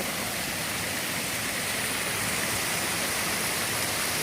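A swollen river rushes loudly and without a break, a dense, roaring wash of water that fills the whole stretch, with no voices heard.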